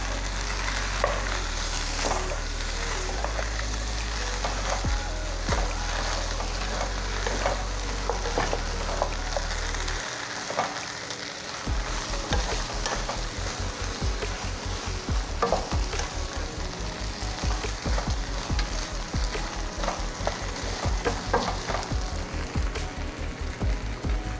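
Thin rice noodles being stir-fried with canned fish, a steady close sizzle with repeated scraping and tossing strokes of a spatula in the pan, continuous and busy throughout with no talking.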